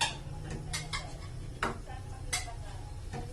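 Pork and broccoli being stirred in a pan with a utensil, giving a series of light metallic scrapes and clinks at irregular intervals over a low steady background.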